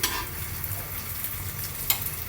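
Meatloaf sizzles and splatters steadily in hot oil, a close, busy crackle with a few sharper pops, no voices over it.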